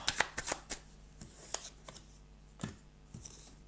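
Belline oracle cards being shuffled and drawn by hand: a quick run of crisp riffling snaps at the start, then scattered softer slaps and flicks as cards are laid down, close and quiet, with no talk.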